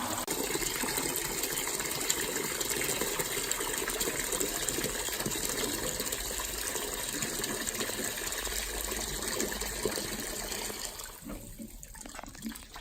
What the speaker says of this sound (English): Once the valve is open, you'll want to open the pressure release valve, which will allow the water to flow.